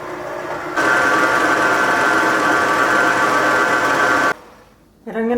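A large electric stand mixer beats zucchini brownie batter with a loud, steady whirring motor hum. The hum cuts off abruptly, leaving quieter room noise, and then a voice starts speaking.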